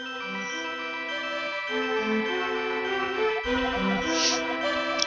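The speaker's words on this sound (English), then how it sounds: "As we hear the very lovely Zelda's Lullaby again." A gentle, lilting melody, Zelda's Lullaby from The Legend of Zelda: A Link to the Past, with sustained harmonies plays steadily, soft and alone, with no voices.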